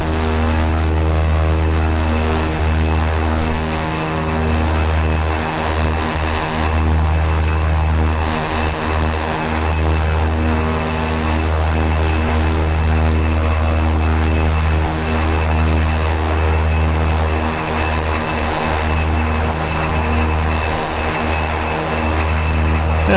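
Steady, loud drone of an OV-10 Bronco's turboprop engines in a DCS flight simulation, a continuous harmonic propeller hum with slight pulsing that holds throughout, with no talk.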